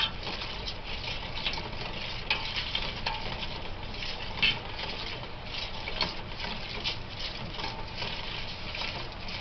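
Metal scraping and stirring in a roasting pan of browning roast drippings, a steady close-up rasp and soft sizzling patter with a few sharper knocks, no voices.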